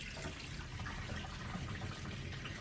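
Water drains steadily from a portable top-loading twin-tub washing machine after a sudsy wash cycle, a continuous close rushing pour with no pauses.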